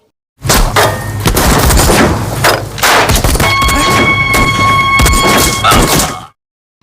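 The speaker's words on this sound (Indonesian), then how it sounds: "Mobil yang ditumpangi polisi senior Hari Krishna diberondong dengan tembakan oleh Veerapan dan anak buahnya." A burst of gunfire rakes a car carrying a senior police officer in an Indian crime film, loud rapid shots and impacts running nearly continuously for about six seconds over a rumbling film mix.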